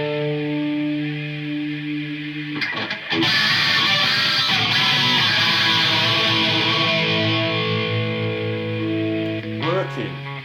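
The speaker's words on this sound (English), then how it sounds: "Flanger." A flanger effect from a Behringer PB1000 pedal sweeps across a sustained guitar tone, the sound suddenly thickening into a swirling, jet-like wash before settling back to a clean note.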